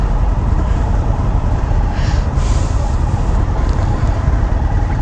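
Indian FTR 1200 S 2019 motorcycle ridden in sport mode, a loud, steady broadband engine and wind roar running continuously at close range with no letup.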